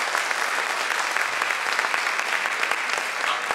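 A school audience applauds a graduating middle college class, dense steady clapping from many hands filling the room at an even level throughout, with faint voices mixed into the crowd.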